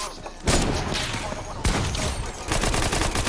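Ray gun firing in a video game during a match, loud rapid bursts of blasts that restart in three waves, with a voice partly under the shots.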